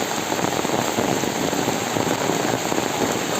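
Steady, dense rain pouring down, a continuous hiss of drops spattering on surfaces close by, with no voices.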